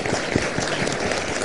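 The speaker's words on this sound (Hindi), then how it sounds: "कई दफा फिर हातिम के लिए ढेर सारी तालियां" Studio audience applause for Hatim on a morning TV show, a dense, steady wash of clapping, loud and continuous for a brief moment.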